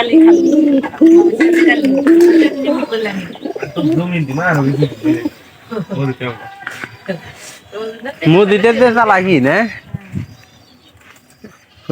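Nesting pigeons coo in repeated low, throaty rolls, close and fairly loud, with someone speaking over and between the calls.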